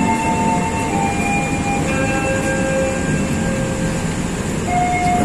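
Steady rumble inside the KA Sembrani passenger train while it runs, with faint whining tones drifting over a continuous low roar and no one talking.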